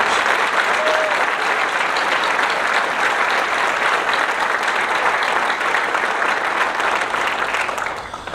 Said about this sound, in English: So how about one more round of applause for all of our workers?